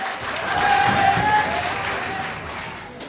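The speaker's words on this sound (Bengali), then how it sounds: "যেই রকম জোরে চিৎকার দিয়ে হাততালি দিলেন" A crowd at a political rally in Bogura claps and cheers in a short, swelling burst of applause with shouts mixed in, heard from within the gathering.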